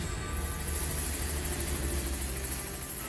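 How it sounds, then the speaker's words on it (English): A helicopter drones steadily, its rotor throbbing in a constant, fairly distant hum with no other sounds. "It's a helicopter going up and down"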